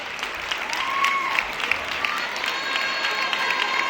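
An audience at a carnival troupe presentation breaks into steady applause with some crowd noise and light cheering, continuous and fairly loud throughout.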